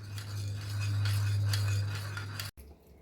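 Soap gel and dishwashing gel cleaning solution being stirred in a bowl with a utensil, giving steady scraping and clinking strokes for about two and a half seconds before stopping abruptly.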